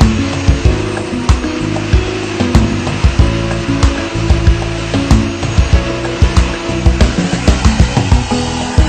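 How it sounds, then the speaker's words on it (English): A KV80 80-litre vacuum cleaner with a three-motor, 3000-watt system runs with a loud, close, steady whine, broken by regular clattering knocks and bumps as it is worked. "let's see the KV80 at work"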